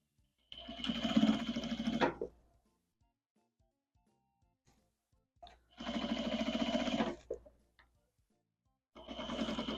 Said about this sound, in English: I'm sewing at a 1/4 inch seam allowance.